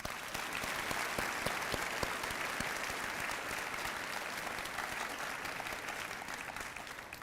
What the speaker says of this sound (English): Join me in another round of applause.